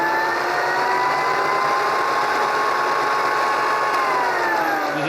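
A high-speed electric coffee grinder with RPM adjustment whirs loudly and steadily, its motor pitch drifting slightly as it runs alone.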